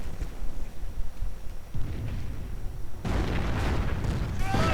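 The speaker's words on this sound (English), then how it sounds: "More heavy Nebelwerfer fire." Nebelwerfer rocket artillery in a World War II strategy game: a low rumbling barrage of heavy booms and bursts swells in two waves over steady battle ambience, growing louder and denser toward the end.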